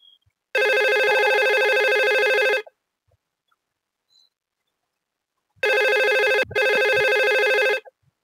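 An IP phone rings for an incoming call to extension 221 on a small router-and-switch network, giving two loud electronic ring bursts of about two seconds each, separated by several seconds of silence, with a brief break inside the second burst.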